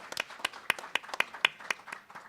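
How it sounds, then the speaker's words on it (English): Scattered clapping from a small forum audience at a League of Women Voters candidates event, distinct individual claps in an uneven rhythm, fairly close and sparse, with no voices. "I want a big round of applause"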